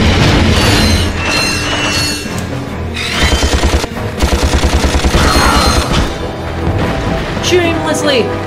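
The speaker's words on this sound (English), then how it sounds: "Shoot aimlessly" Rapid bursts of weapon fire from Ratchet and Clank (2002) rattle in quick repeating volleys over busy game music and effects, loud and close, with brief pauses between bursts.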